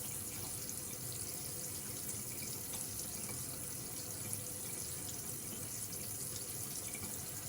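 Tap water runs steadily into a sink as hands are wetted during a wet shave with a 1966 new-old-stock Gillette razor, a continuous close hiss with no talking.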